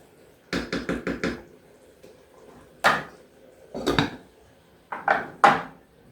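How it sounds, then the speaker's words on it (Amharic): A lid set down on a pot of rice cooking with water, salt and spices, giving a quick run of light metallic clatters followed by a few separate knocks and clanks, close and clear with no talking. "እነዚህን አደራርገን ክድን እናደርገዋለን።"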